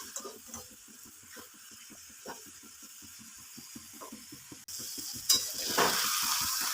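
Drumstick flowers and fried brinjal stirred in a pan over low flame, a quiet sizzle with rapid rhythmic scrapes and clicks of the spatula, growing louder and hissier in the last seconds, no speech.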